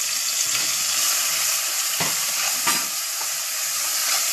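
Tomato sautéing with ginger, garlic and shallot paste for rasam, a steady close sizzle with faint stirring scrapes and a couple of brief knocks, no voices.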